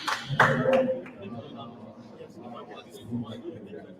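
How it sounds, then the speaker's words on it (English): A brief burst of applause from a small audience at a live event, loudest at the start and then fading under ongoing chatter and speech. "please let's give him a round of applause"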